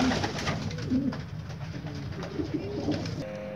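Pigeons coo close by in soft, rolling, repeated calls that fill the short stretch, with light rustling around them and no talk.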